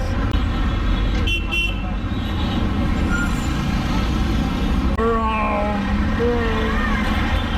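Dense Mumbai street traffic with tuk-tuks and cars rumbling continuously close by, with short honks and tooting rising over the steady roar.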